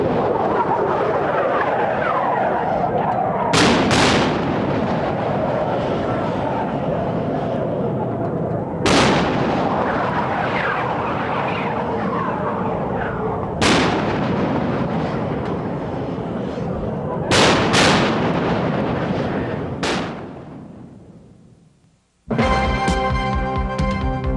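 Iowa-class battleship 16-inch guns fire in several heavy booming blasts spaced a few seconds apart, each a sharp crack followed by a long rolling rumble, before a brief musical ending.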